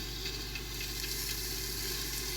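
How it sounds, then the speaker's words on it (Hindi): Steady sizzling of potatoes and cauliflower frying in a pot, with faint scraping from stirring with a spoon, continuous and close. "अभी इसको हम चम्मच चलाएंगे"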